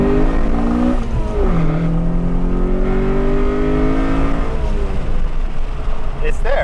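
A Honda H22 engine with a titanium intake in an Accord wagon revs hard through its VTEC crossover. The loud, close engine note dips briefly, then climbs steadily in pitch with a harsh, raspy intake roar.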